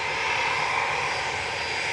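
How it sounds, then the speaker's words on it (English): Boeing 737-800 jet departing Manchester Airport for Olbia, a steady, loud broadband engine roar that holds unbroken throughout, with no voices over it. "Their 737-800 GTAWS is heading off to Olbia."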